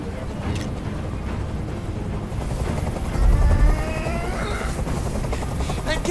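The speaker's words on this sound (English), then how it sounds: "Tell that helicopter to get out of here." Steady helicopter rotor drone hovering close overhead in the video game Detroit Become Human, a continuous chopping roar that swells briefly midway, with faint speech-like sounds mixed in.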